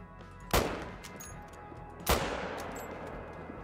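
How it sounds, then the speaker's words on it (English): Two rifle gunshots fired while hunting chamois outdoors, each a sharp loud crack followed by a decaying echo, about one and a half seconds apart. "I'm going to go for the shot."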